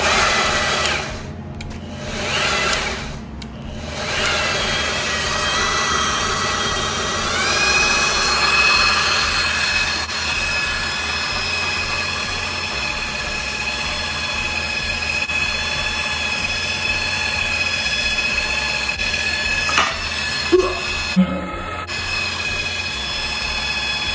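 A tube sander with a green fine abrasive belt runs continuously, giving a steady whining mechanical drone with a rising tone near the start and a few faint knocks later.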